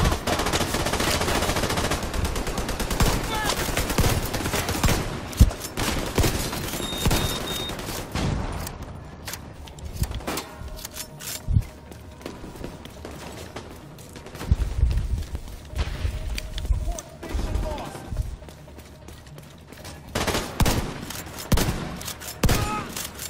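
Heavy gunfire in The Division 2: dense automatic bursts and volleys at first, then scattered single shots and short bursts, some near and loud, others distant, with a fresh barrage near the end.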